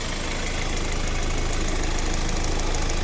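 A warmed-up 2013 Hyundai i40 with a 1.7 CRDi diesel and automatic gearbox idles steadily, a close, even diesel clatter with a low rhythmic pulse and no voices.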